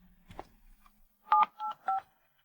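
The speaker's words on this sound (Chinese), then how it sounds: "我去打个电话" A telephone number is dialed as three clear touch-tone beeps in quick succession, following a few faint, indistinct sounds, in an otherwise quiet room.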